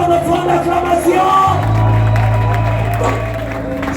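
A church congregation cheering and acclaiming, with loud crowd shouts, whoops and clapping mixed with a sustained low musical tone beneath the noise.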